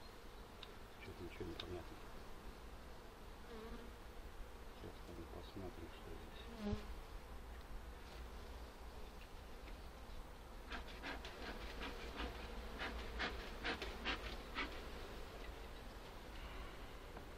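Honeybees buzz steadily around hives during an inspection of nucleus colonies, a dense continuous drone with a faint low rumble beneath, a brief sharp knock partway through, and a person's voice speaking quietly over it.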